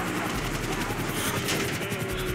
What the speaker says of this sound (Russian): Вертолет от нашего прыжка задел лопастями рекламный щит.